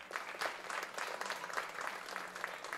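A crowd claps at a charity celebration attended by a visiting governor, the applause fairly soft and distant, with a few distinct claps standing out from a sustained, even patter.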